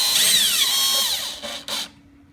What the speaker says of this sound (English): It makes it a little easier with the drill.